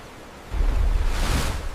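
Ship's bow slicing through open sea water in the Drake Passage, a broad rushing wash that swells up loud after a quieter start and holds steady, with no voices.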